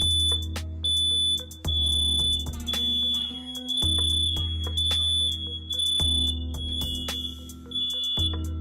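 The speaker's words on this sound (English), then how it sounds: "just testing the fire alarm and seeing if the Wyze cam will pick up on it" Household smoke alarm going off indoors during a test, sounding loud repeated shrill beeps in a steady on-off pattern that dominates the whole stretch.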